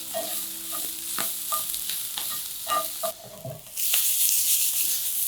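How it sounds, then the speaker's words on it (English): Extra firm tofu sears in a hot pan with a steady close sizzle, punctuated by sharp scrapes and clicks of stirring, and the frying swells louder and brighter near the end; no one speaks. "Just get a nice quick sear on that tofu."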